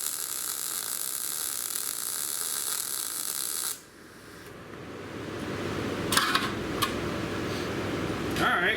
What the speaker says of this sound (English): it's a nice weld. I mean, it's just what you would expect, you know, from a MIG.